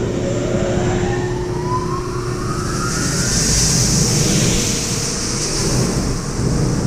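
Blower of a ZCS 1400 shredder and granulator size-reduction system spinning up, a steady loud broadband rush with a rising whine sweeping upward as the fan gains speed, no voices.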